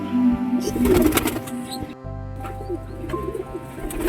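Male pigeon cooing close by, a low soft repeated coo under continuous talking, with a brief quiet gap midway and a crested pigeon of Hungarian-like size.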